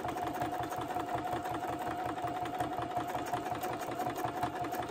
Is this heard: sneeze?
no